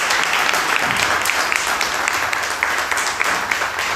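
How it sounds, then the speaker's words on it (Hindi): An audience claps for its leaders at a church gathering, producing a dense, continuous wash of applause that holds steady throughout with no talking. "उनके लिए एक बार ताली बजा दीजिए"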